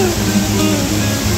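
A stream running near a hidden waterfall in Maval, Pune, rushes loudly and steadily in a dense wash of splashing water, close by, with nothing else standing out.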